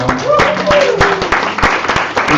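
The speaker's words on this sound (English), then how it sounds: "Please applause" Audience applause at a Garage48 Minsk hackathon presentation, dense overlapping clapping that stays steady and fairly close throughout, with faint voices beneath it.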